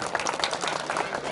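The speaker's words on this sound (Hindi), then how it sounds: "जोरदार तालियां" Loud crowd applause with continuous dense clapping at a village celebration of Sant Shiromani Ravidas Maharaj's birth anniversary, steady and close, with voices mixed in.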